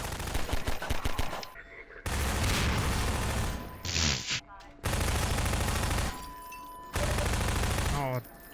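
Gunfire in the video game Half-Life 2, loud bursts of rapid shots in three long stretches separated by brief gaps, with a short electronic tone between bursts.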